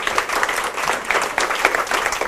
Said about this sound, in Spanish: Muchas gracias, un aplauso para la compañera.